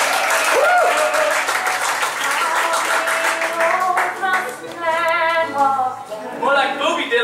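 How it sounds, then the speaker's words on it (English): Applause from a live show audience mixes with loud voices and whoops, hand clapping under cheering and shouted talk at close range throughout. "Let's give a big round of applause"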